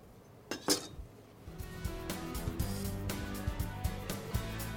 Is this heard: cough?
no